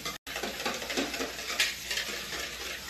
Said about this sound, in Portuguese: Pega a água fervendo e já coloca aqui da forma que eu tô ensinando.